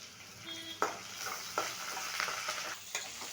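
Curry leaves and onion frying in a pan give a steady soft sizzle, broken by a few sharper crackles and stirring scrapes, fairly quiet and close with no voices.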